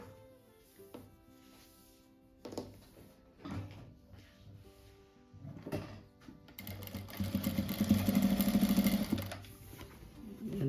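Sewing machine joining fabric strips for a butterfly, heard first as short separate bursts with fabric handling and clicks between them, then a longer, louder stitching run near the end, close up and with no talking.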